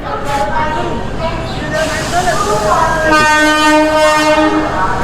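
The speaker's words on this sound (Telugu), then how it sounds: "train coming" A packed passenger train rumbles past close by at Khurda Road station, India, its loud horn sounding in long sustained blasts over the roar, with voices in the background.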